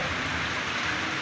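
Steady rainfall hisses evenly and densely, a brief close wash of drops with no other sounds, during the first heavy rain of the season that brings flooding.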